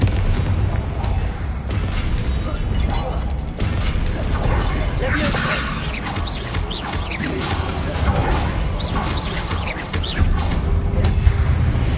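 Blasting spell explosions from Hogwarts Legacy, heavy booms and crackling impacts layered with mechanical clatter in a busy, loud scene, with a voice speaking over the action.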